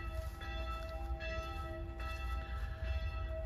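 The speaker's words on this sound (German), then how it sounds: "Jetzt hören wir gerade auch die Glocken einer Bestattung." Church bells ring for a funeral at a cemetery in Pforzheim, steady sustained tolling with overlapping strikes that hold a bright hum, heard from some distance over a low outdoor background rumble.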